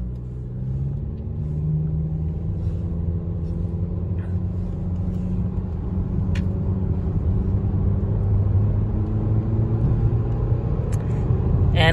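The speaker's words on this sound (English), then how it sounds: "So put a vehicle in drive." Honda HR-V with the Honda Sensing system driving on the road, a steady low engine and road rumble that builds slightly as the car gains speed, continuous and close, with no talk.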